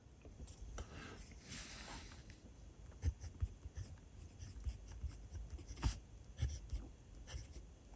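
A fine-nib fountain pen, a Majohn with Diamine Teal ink, scratches softly across Talens Art Creation sketchbook paper in close, faint strokes with small taps and pauses, and no talk.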